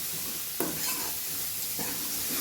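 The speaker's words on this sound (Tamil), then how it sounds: "நல்லா தாளிச்சிக்கோங்க." Spices temper in a small amount of oil in a pan for tomato rasam, giving a steady close sizzle broken by two or three sharp stirring scrapes, with no voices.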